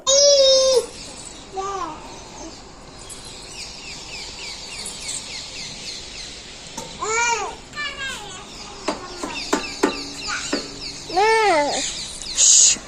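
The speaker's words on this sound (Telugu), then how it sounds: "పక్షులు అరుస్తున్నాయి కదా" Several bird calls in the morning, some clucking, ring out over steady outdoor ambience, with short bursts of chirping scattered through and a child's babble early on.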